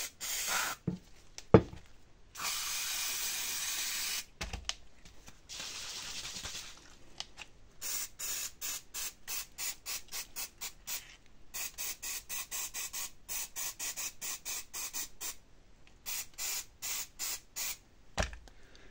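Cleaner sprayed into a car's EGR valve in bursts: a few longer hissing sprays early on, then a rapid run of short, evenly spaced spritzes, close and fairly quiet, with silent gaps between.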